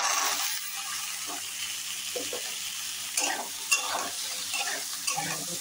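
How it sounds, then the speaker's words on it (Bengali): Cut potatoes hiss and crackle in oil in a wok, a steady close sizzle with occasional stirring scrapes and soft knocks of a spatula, no one talking. "এবার এই কাটা আলুটা দিয়ে দেবো।"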